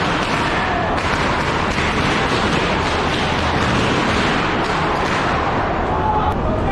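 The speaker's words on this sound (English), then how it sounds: "Those were firecrackers." Firecrackers go off outdoors at a street gathering, a dense, continuous crackle of sharp pops and bangs that stays loud throughout, with voices and crowd noise mixed in underneath.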